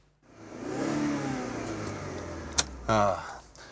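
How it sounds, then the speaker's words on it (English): A 1960s Alfa Romeo car engine revving high, a rising mechanical roar close by that swells and holds, followed by a sharp click and a brief further sound near the end. "that's the difference between ordinary cars and this, an Alfa Romeo, that beautiful timbre of the high-revving engine"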